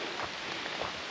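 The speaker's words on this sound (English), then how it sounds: "it's been raining more consistently" Rain falls steadily on the Pine Bend Brook Trail toward the Tripyramids, a soft, even hiss of drops on foliage and ground with no break over the short stretch.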